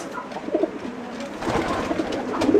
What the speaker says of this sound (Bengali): একটি কালপিট গিরিবাস